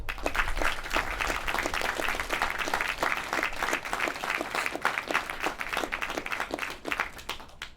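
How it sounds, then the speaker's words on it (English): An outdoor military patching ceremony for a battalion of troopers draws a sustained round of applause from the crowd, steady and moderately distant throughout. "please join me for a round of applause for the troopers on the field this morning"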